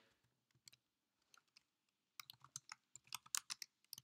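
Scattered keystrokes on a Mac computer keyboard while a shell command is entered, sparse at first and then a faster, louder burst of close typing.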